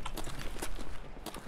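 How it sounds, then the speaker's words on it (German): Footsteps in the video game Escape From Tarkov, coming up stairs from the right: a quick series of hard, thudding steps at close range, fairly loud over game ambience. "Es kam von rechts Schritte, Treppe hoch."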